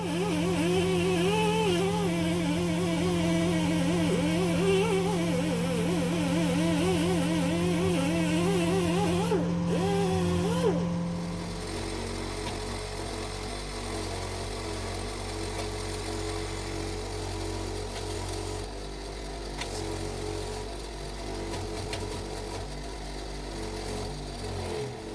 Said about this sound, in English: Whilst I've got the die grinder tool out, I'll just give it a quick spin over the exhaust ports, just to make sure they're clean